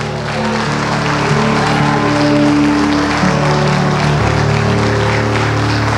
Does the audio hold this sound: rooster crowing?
no